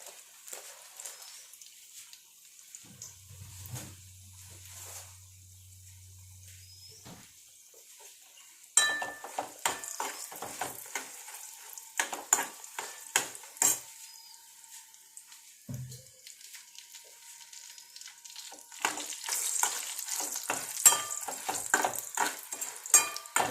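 Chilies fry in oil with a faint, crackly sizzle that grows busier partway through, punctuated by scattered pops and the clatter of a utensil against the pan, plus a brief low hum early on.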